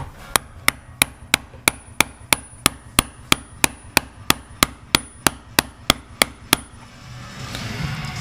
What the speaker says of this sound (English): You got a big fat socket here. This is a 27mm. I'm going to be using the back side right here.